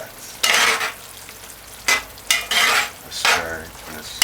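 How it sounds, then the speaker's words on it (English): A pot of brown stewed cow's kidney being stirred, four separate scraping bursts of a spoon against the pot over a soft sizzle, close and fairly loud with no talking. "And stir your pot."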